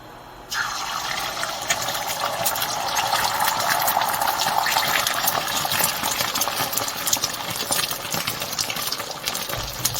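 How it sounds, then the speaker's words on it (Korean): Beaten egg poured slowly into a hot pan on an induction cooktop, a loud close sizzle that starts suddenly and keeps crackling and hissing steadily for about ten seconds. "이때 계란을 천천히 부어줍니다."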